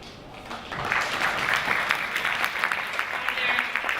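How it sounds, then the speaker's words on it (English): Audience applause at a Black lawyers panel, moderately distant and steady, a continuous wash of clapping lasting several seconds. "I'm going to ask if you hold your applause till the end of the introductions"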